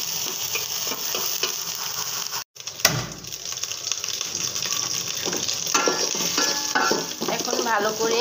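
Small fish lightly frying in a pan, a bright continuous sizzle with a brief cutoff and a clunk, then busier crackling and scraping as the frying continues.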